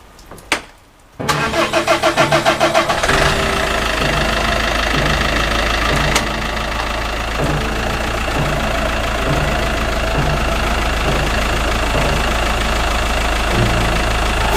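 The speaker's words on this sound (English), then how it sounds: "we definitely can start the engine" An Iveco Daily van engine cranks briefly, catches, and settles into a loud, steady diesel idle with a rhythmic knocking chug that continues without talk.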